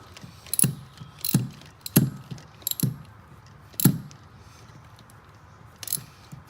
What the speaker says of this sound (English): let's get our ratchet on there